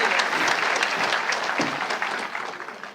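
An audience at a high school commencement ceremony claps warmly to welcome a speaker, dense sustained applause from a large crowd that slowly begins to fade.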